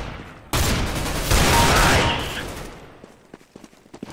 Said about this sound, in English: Where the hell are you shooting me from?